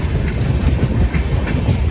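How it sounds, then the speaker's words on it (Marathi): The Pune–Hyderabad Shatabdi Express rumbles past close by departing Latur station, wheels clacking over rail joints in a steady rhythm beneath a heavy low roar. "पुणे हैदराबाद शताब्दी एक्सप्रेस लातूर रेल्वे स्टेशन येथून हैदराबादकडे जाण्यास तयार झालेली आहे"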